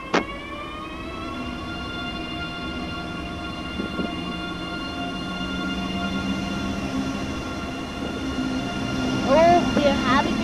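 A train running in the video game Train Sim World 2 on a snowy, icy route, a steady electric motor whine with sustained tonal hum and rumble, rising slightly toward the end, with faint voices near the close.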